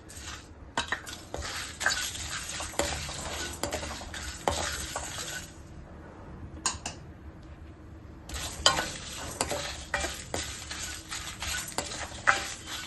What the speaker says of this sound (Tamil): மீடியம் ஃப்ளேம்ல வச்சு வறுத்து எடுத்துக்கோங்க